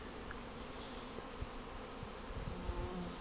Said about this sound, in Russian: Пчелы работают.